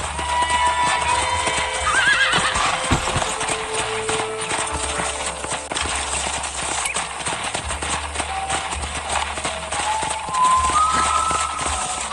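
In the Red Dead Redemption video game, a horse clip-clops steadily at close range with rhythmic hoofbeats and occasional whinnies, over a low ambient rumble.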